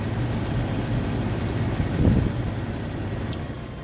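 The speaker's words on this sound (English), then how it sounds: "You plug it back in, it turns on, volts start coming up, you hear the engine bog a little bit." A car engine idles steadily and dips into a brief, slight bog midway as the alternator is plugged back in, then settles back to an even hum.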